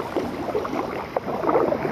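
Water splashing and swishing as a paddle dips rhythmically beside a small fishing kayak, with light wind noise in the background.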